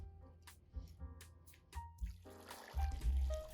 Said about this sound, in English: Then added in enough water to cover the fruit